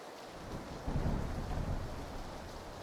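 Thunder rumbles through steady rain during a thunderstorm with lightning in the video game PlayerUnknown's Battlegrounds, a low, rolling, fairly loud wash that swells about a second in and carries on without any talk.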